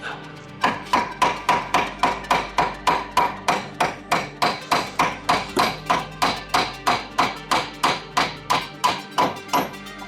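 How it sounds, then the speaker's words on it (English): Hammer tapping a washer into place on a DeLorean, a steady run of about twenty-five sharp metallic blows, close and loud, evenly spaced with no talk. "I gotta pound it in just a little bit"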